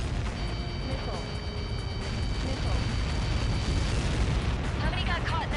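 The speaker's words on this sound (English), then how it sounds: "How many got caught in that explosion?" A large explosion booms and rumbles in the Ace Combat 7 flight game amid steady engine and battle noise, with radio chatter and beeping tones layered over it.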